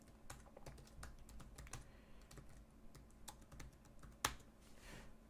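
Random details are typed into a web form on a computer keyboard, irregular soft key clicks tapping in quick runs with a sharper clack near the end, close and quiet with no voices.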